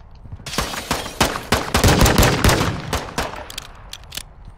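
Rapid bursts of video game gunfire from a shootout on a penthouse, loud and close, with dense overlapping shots and sharp cracks repeating over several seconds, no talking.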